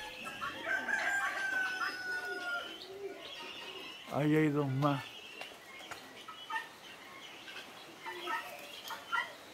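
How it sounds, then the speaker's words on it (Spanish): Turkey and other fowl calling on a farm with guinea fowl nearby, a loud throaty gobbling burst in the middle amid scattered bird calls and crowing, with people talking throughout. "Mira este pavo que hay, que aparato."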